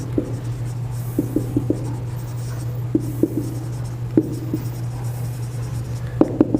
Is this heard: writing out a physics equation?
yes